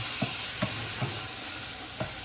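Beef frying in a pan with sour cream, a steady close sizzle and hiss broken by about five soft rhythmic scrapes of stirring, no talking.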